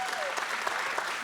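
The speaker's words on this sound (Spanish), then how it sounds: "reciban un aplauso a la familia Escalante, Omar y Seidi." A live audience at a Mother's Day talk breaks into brief applause, a dense burst of clapping heard close and steady for about a second.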